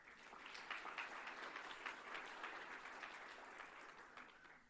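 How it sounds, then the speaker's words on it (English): A crowd at a Durham County sheriff's cadet graduation ceremony applauds in a dense, sustained wash of clapping that holds steady, then tapers off slightly at the end. "Give yourselves a hand."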